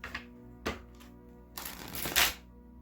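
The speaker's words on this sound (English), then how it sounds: "Oh, that was a terrible shuffle, wasn't it?" Oracle cards being shuffled by hand, with a brief crisp riffle near the start and a longer, louder flurry of card rustling toward the end, close and alone with no talk.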